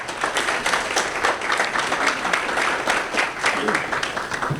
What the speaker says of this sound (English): give a round of applause to Andrew again, who's coming up